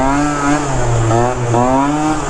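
A tuned Yamaha Zuma BWS scooter, an early pre-bug model, revs hard and close up, its buzzing two-stroke engine holding high revs with brief dips and climbs, loud and alone.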